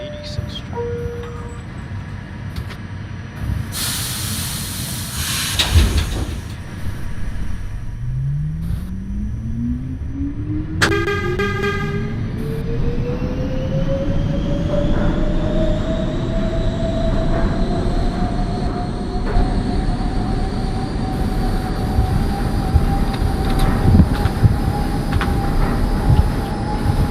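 A simulated NYC Subway R68 B train in the OpenBVE game starts and runs, with chime tones, a door or brake hiss, then a rising motor whine climbing in pitch over steady rail rumble. A voice speaks over it.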